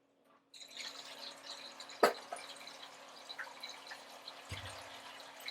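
Water spills through an open aquarium weir with its cap and siphon removed, making a soft continuous trickle and dripping under a steady pump hum, with a sharp splash or knock partway through.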